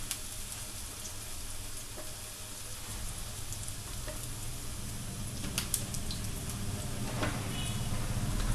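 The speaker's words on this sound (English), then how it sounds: "While flipping the tikkis, we have to keep the flame in low" Millet vegetable cutlets sizzle in a pan over a low flame, giving a dense, continuous crackling hiss up close, broken by occasional light spatters and spatula clicks, with no talking.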